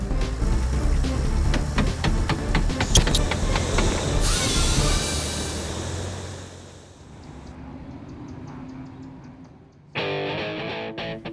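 Cars pass along West 5th Street in Tempe, a road carrying traffic off the 202 toward downtown, with loud close engine and tire noise fading into a quieter lull before another vehicle sweeps by near the end.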